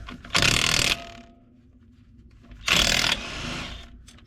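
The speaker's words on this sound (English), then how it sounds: "being out in the yard like this is the time to shine for a battery-powered impact" A battery-powered impact driver runs outdoors in a yard, giving two loud bursts of about half a second each with a quieter pause between them.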